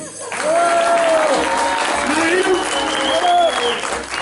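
An audience applauds a Chinese linking rings magic trick, a steady wash of clapping held at an even level throughout, with whistling or voices rising over it.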